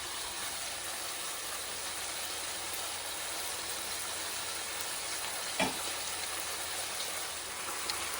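Beef frying in a pan, heard as a steady, fairly quiet broadband sizzle with no talk, plus one brief stir or clink near the end.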